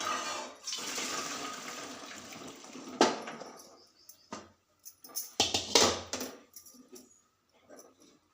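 Hot water is strained off boiled cauliflower, a rushing pour lasting a few seconds, followed by clinks and short splashes.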